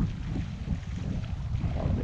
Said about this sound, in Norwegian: Det är lite mer vind.